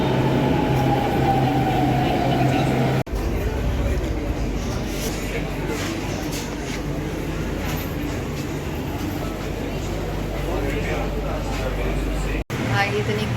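A metro train rumbles at a metro station, a loud continuous roar and rattle with abrupt cuts, while people talk nearby.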